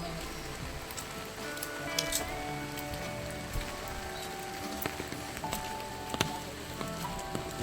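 Steady rain patters on a surface, a dense hiss with occasional sharper drips and taps, continuous throughout.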